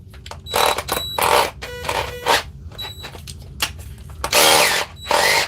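A Dewalt hammer drill runs in a series of short, loud, whining bursts separated by brief pauses, close by.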